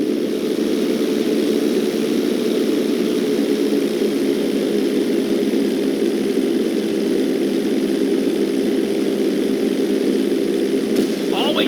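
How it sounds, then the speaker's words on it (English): A propeller airplane in GTA 5 flight school revving on the runway for takeoff, a loud steady engine drone with constant pitch, close and sustained throughout. "Take off and head for the marker at the end of the runway."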